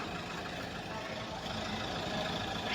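A Maki tractor's engine running steadily, a continuous low rumbling drone that holds even throughout and grows slightly louder toward the end, heard outdoors without talk.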